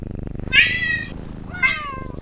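A cat gives two drawn-out meows, the first longer and louder, the second shorter, close by with no talk over them.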